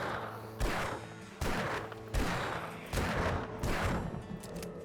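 Video game gunfire from a Magnum revolver in 7 Days to Die during a horde night: five heavy, evenly spaced shots about a second apart, each a sharp boom trailing off, over steady low background rumble.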